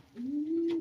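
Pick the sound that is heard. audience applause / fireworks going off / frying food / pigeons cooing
pigeons cooing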